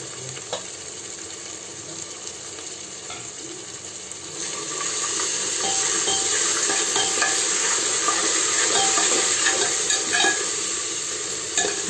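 Chopped tomatoes and green chillies sizzle in a pan in a home kitchen, a steady frying hiss that grows louder partway through as stirring scrapes along, with no talking.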